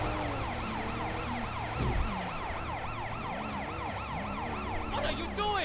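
A wailing police car siren sweeps up and down steadily in a video game, loud and continuous, with a second siren tone and some faint game noise layered beneath.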